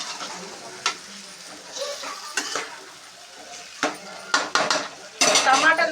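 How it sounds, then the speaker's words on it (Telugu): Tomatoes being stirred in a pan, with scattered spoon knocks and scrapes against the metal that build into a louder burst of clattering and sizzling toward the end. "చూడండి, కలుపుకోవాలి ఒకసారి"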